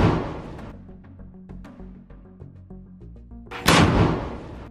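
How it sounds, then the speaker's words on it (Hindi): Rockets launched from a rocket launcher in a Hamas–Israel war setting: a series of sharp cracks and thumps spaced irregularly, then one big roaring blast near the end that dies away slowly. "हमास के कुछ और लड़ाके रॉकेट फायर करते हुए नजर आ रहे हैं।"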